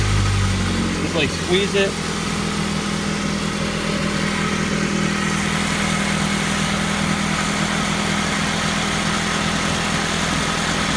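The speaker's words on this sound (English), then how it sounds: "You can rev it up a few times." A car engine idles steadily throughout at close range while the cooling system is being bled, with a person talking over the low, even hum.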